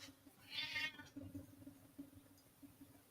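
A domestic cat meows once, a short mid-pitched cry close to the microphone, with a faint low hum continuing underneath afterward.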